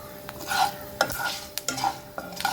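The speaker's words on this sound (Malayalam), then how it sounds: "ഉലുവയും കൂടി വറുത്തിടാം ഇളക്കി കൊടുക്കട്ടെ കേട്ടോ" Mustard and fenugreek seeds roasting in a pan for Guruvayur-style rasakalan, stirred in a few scraping strokes with a light sizzle underneath, close by and moderately loud.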